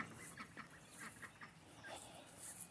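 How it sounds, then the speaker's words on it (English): Ducks quack and honk outdoors on a foggy, cold early morning on a homestead, a scattered run of faint calls at a middle distance with no talking. "the ducks are already out moving."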